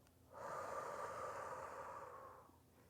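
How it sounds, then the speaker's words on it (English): A single slow, steady breath out through the mouth, a soft airy rush that rises, holds for about two seconds, then fades, close and alone, taken as part of a calm breathing exercise. "then you're going to breathe out your mouth nice and slow"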